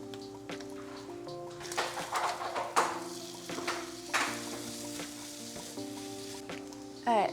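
Egg with onion and garlic scrambling in a frying pan, a steady sizzle with irregular scrapes and clinks of stirring, with background music running throughout.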